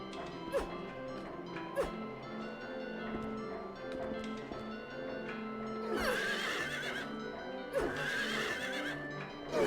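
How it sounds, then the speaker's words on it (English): Distorted, slowed-down horse neighs with a grunting, pig-like quality in Silent Hill 3, repeated several times over game music and scattered thuds. "it's like a mix between like a horse and a pig."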